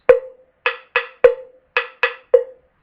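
Seven short, dry, muted strikes on a cowbell held closed, in an uneven rhythm, each choked off quickly, played alone.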